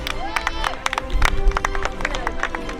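A crowd at a children's team event claps for the kids, with sharp individual claps scattered over lively chatter and babble close by.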